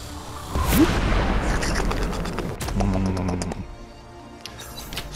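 Missile launches and space weapons fire in the VR space game Ghost Signal: A Stellaris Game, a loud booming blast followed by layered rumbling and electronic pulses, with no talking.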